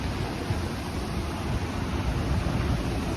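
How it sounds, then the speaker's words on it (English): A park waterfall rushes beneath stone steps, a dense, steady roar of churning water heard up close, broad and unbroken with no voices. "you can hear the power of this waterfall"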